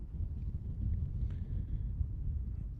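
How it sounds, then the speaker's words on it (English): Steady wind rushes across an outdoor polo field during a match, a faint low roar buffeting the microphone with no talk. "It's very windy here now."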